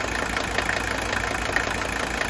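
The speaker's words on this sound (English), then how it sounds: "This still has that sound of the injector's nailing." Mercedes 300TD wagon diesel engine idling close by, a steady rumble with a sharp, metallic injector nailing knock that ticks repeatedly and slightly unevenly over the idle.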